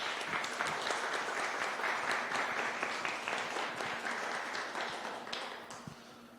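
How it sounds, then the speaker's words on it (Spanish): An audience at a human rights magazine launch on violence against women gives steady, dense applause that goes on throughout and slowly fades toward the end. "Un aplauso, por favor."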